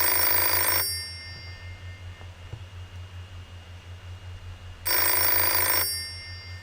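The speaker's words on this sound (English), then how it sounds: "Answer the phone." An old-style telephone bell rings in the game Nine Noir Lives, two loud bursts at the start and end separated by a quiet stretch of low hum.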